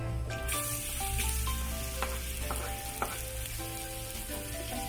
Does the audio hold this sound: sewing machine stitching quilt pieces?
no